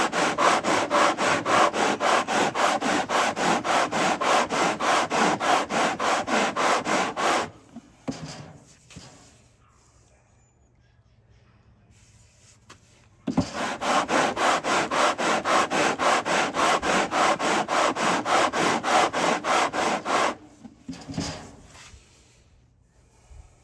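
Wood sanding on a handmade guitar build: long, steady, loud rasping strokes in two extended bursts, each running several seconds and broken by a quiet pause with light handling noises, with no talk.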